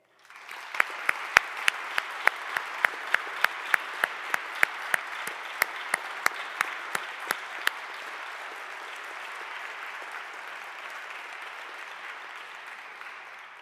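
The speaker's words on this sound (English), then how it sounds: "Let's applaud once more for everyone who's been named today." Audience at an honors convocation applauds named students, a dense sustained round of clapping with a few sharp louder claps standing out early, then settling into an even wash of crowd applause that continues to the end without speech.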